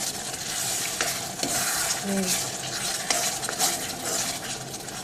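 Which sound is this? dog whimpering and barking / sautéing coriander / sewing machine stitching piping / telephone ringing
sautéing coriander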